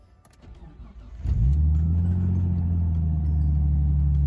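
A Nissan Skyline R33 engine cranks briefly and fires up, settling into a loud, steady idle rumble that continues to the end.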